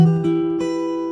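Acoustic guitar strums sustained chords from the verse of a song, with a second strum around the middle ringing out clearly and alone.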